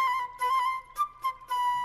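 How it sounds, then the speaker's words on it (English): A song plays from a big red gondola on a canal: a bright, whistle-like melody with steady sustained tones and short pauses, moderately loud and alone with no talk. "that song is coming from a big red gondola"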